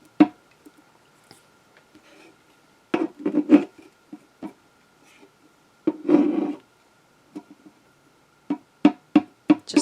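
Wooden box lid knocking against its uncushioned base during gluing, scattered sharp wooden clacks and rubbing taps in irregular clusters, close and fairly loud, with quiet gaps between.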